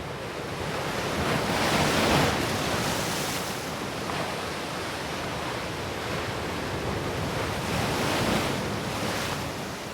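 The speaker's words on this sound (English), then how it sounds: "watching surf pounding in." Heavy surf pounding on rocks at a beach near Shek O, Hong Kong, a continuous loud roar of breaking waves swelling and fading, with wind buffeting the microphone and no voices.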